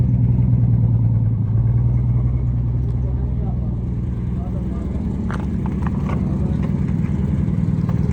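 A 2002 Toyota Prado facelifted to 2024 styling runs its engine in a steady mid-pitched drone as it drives out, fairly loud throughout, with a few faint knocks and clicks near the end.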